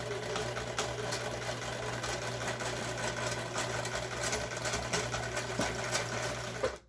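A sewing machine stitches a quilted piece for a quillow in one continuous, close, steady whir with a low motor drone, stopping abruptly at the end.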